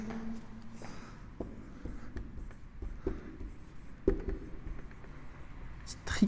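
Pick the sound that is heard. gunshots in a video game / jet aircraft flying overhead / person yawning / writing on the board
writing on the board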